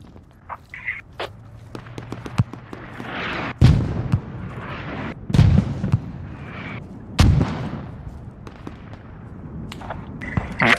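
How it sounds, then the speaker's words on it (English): Mortar rounds from the game Squad land in a series of heavy booming explosions, four or five big blasts spaced a couple of seconds apart among sharper cracks of distant gunfire, with no talking. "I'm calling in mortars on the south of our position across the hill"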